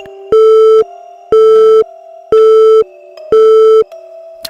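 Telephone busy signal heard as four loud, evenly spaced tone bursts with short gaps between, a call failing to connect, with a steady quieter tone running underneath and no talk.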